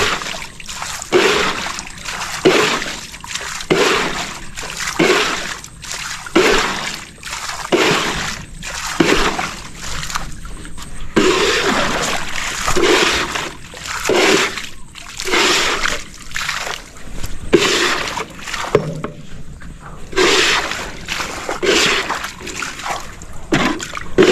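River water splashing and sloshing along its current, loud and close, surging in repeated rhythmic bursts with brief dips between, continuous throughout.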